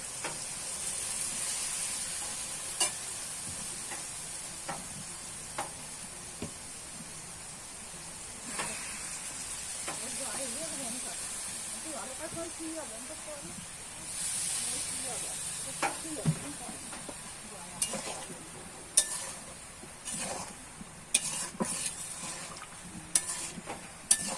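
A paste of soaked cumin, coriander and dried chili powder hisses and sizzles in a pan for a vegetarian soybean and potato curry, with scraping stirs and clinks throughout and sharper taps near the end.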